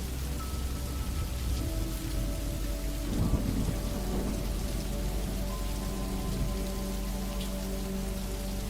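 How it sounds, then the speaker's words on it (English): Gentle rain falling steadily in a courtyard, a soft, even hiss of drops with a low rumble of thunder far off, continuous and with no voices. "The rain continues its gentle descent, a soft, persistent rhythm that permeates the courtyard."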